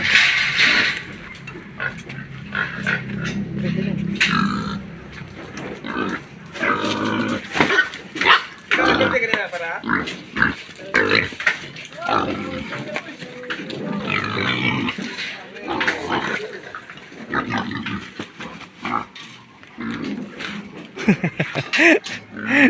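Pigs grunt and squeal throughout a crowded livestock sale in Antique, mixed with auctioneer and buyers' voices calling prices, the animal noises loud and close, overlapping with steady talk.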